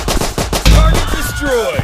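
Close, loud assault rifle fire in the multiplayer game Dude Theft Wars, a rapid run of sharp shots in quick bursts with no talking.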